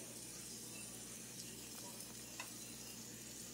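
Chopped onion softens in a pan as the start of a creamy mushroom sauce, giving a faint, steady sizzle and hiss with a few small pops. No one speaks.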